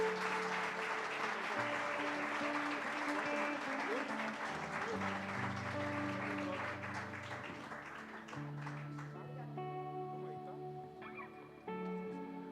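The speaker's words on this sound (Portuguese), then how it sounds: "Vamos aplaudir o Senhor?" A church congregation applauds during a worship service, steady broad clapping running throughout with organ or keyboard chords sustained underneath, easing slightly toward the end.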